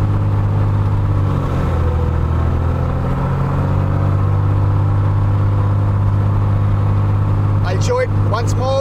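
A steady, loud drone of an aircraft propeller engine holds its pitch and then shifts in tone as the pitch lever moves to coarse, with brief squeaky sounds near the end.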